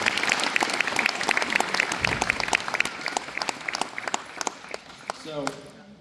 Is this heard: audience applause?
yes